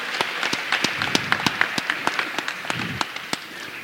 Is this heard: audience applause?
yes